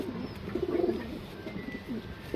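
A female surmai rakdar pigeon coos softly in a short, low rolling run, fairly close but faint, over a light background hiss.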